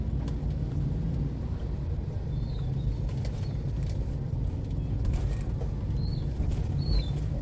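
A car on a damaged, uneven stretch of Jalan Raya Pasar Kemis rocks along with a steady low rumble, occasional creaks and faint squeaks of the body, fairly quiet with no talking.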